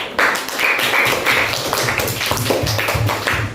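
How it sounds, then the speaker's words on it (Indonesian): A classroom group applauding group 1, with a steady run of many hands clapping for a few seconds at close range, loud and continuous. "beri aplaus untuk kelompok 1"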